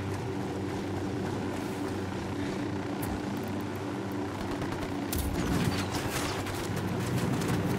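Helicopter in the video game Ghost Recon Wildlands, a continuous heavy rotor thrum and engine drone that holds loud throughout, joined near the end by a sharp burst and a rising scatter of crackling noise.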